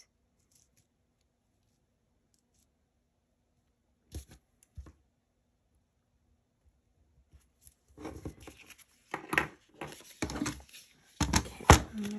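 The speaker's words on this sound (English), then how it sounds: "I'm gonna trim this where I marked it so it'll fit in that section right here" Scissors cut paper for a Mickey and Minnie fall Happy Planner spread. After a quiet start and a couple of small taps, a run of close crisp snips and rustles follows.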